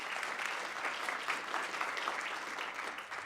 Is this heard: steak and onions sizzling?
no